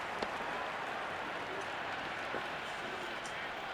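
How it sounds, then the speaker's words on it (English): Stadium crowd in the cricket video game Cricket 26, India versus Pakistan, keeps up a steady, dense roar of cheering that holds level throughout, like a constant wash of noise from the stands. "There's a buzz, a real buzz coming from the stands."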